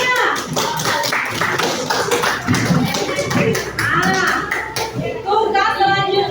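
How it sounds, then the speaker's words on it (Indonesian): Clapping from a classroom group breaks out in uneven, scattered bursts of hand claps, close and fairly loud, with voices chattering through it. "Oke, tepuk tangan semuanya."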